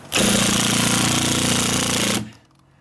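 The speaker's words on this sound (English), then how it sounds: "I really like that impact drill, because see how far it sunk that screw" A loud, rapid hammering rattle of an impact drill driving a screw into deck wood runs for about two seconds, then stops abruptly, leaving quiet room tone.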